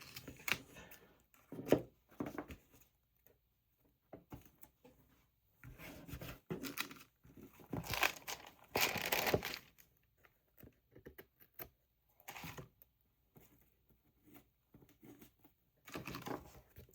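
Burnishing and cutting paper from a food box while making a journal: quiet bursts of rubbing and scraping separated by silent pauses, close and faint, with no talk.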